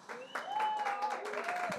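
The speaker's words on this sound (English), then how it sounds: "Please, a round of applause for Nicole." Applause from an audience at a jazz and food tasting event, welcoming the chef, a dense patter of clapping from a small crowd, fairly close, with a voice speaking over it.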